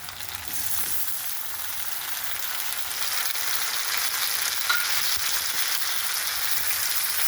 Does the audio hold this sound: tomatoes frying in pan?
yes